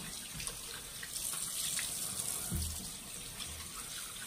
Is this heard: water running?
yes